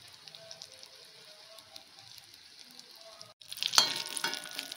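Cauliflower samosas sizzle softly in hot oil, a faint steady crackle that jumps to a louder, busier hiss near the end as the pastries are stirred or moved.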